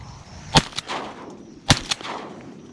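A full-choke shotgun fired at a teal while duck hunting from a pirogue in Louisiana: two sharp, loud blasts about a second apart, each with a quick echo off open marsh.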